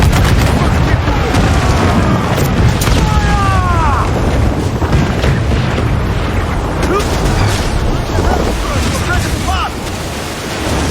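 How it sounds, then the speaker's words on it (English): Mortar rounds and cannon fire boom in a naval battle in Assassin's Creed IV Black Flag, a dense, loud wall of rumbling blasts and whistling shells that keeps going without a break. "Mortar incoming!"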